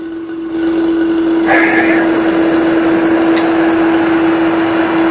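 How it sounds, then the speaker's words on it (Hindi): Vacuum pump drawing down the refrigerant system of a window air conditioner, a loud steady motor drone with a strong constant hum that runs alone throughout after a brief quieter start. "देखिए वैक्यूम हो रहा है ना"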